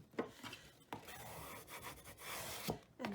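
Soft, close rubbing strokes burnish paper down onto a mini album page, a few faint scraping passes with brief taps.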